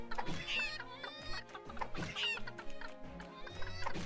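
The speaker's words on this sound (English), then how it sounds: "Herd the chickens." Chickens cluck repeatedly in the PC video game Secrets of Grindea, in steady rhythmic bursts over a continuous game music background.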